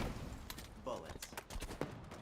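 Gunfire from the Halo video game, a quick scatter of sharp shots and impacts over a couple of seconds, mixed with game sounds and fairly faint.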